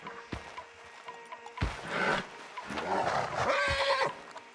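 Horses whinny and snort in the Red Dead Redemption 2 video game, several loud close neighs in bursts with thumps and rustling between them.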